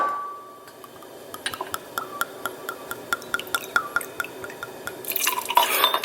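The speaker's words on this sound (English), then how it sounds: "We're gonna add a shot of vodka." A shot of vodka poured into a glass of water and ice for a keto cocktail: scattered bright drips and clinks against ice in an irregular rhythm, close and fairly quiet, ending in a brief louder splash of pouring.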